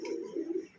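Racing pigeon cooing in one short, soft, throaty coo close by, with no voices.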